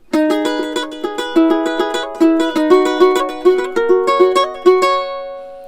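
Plucked ukulele notes run quickly through a looping riff, bright and close, played alone and ending on a sustained ringing note.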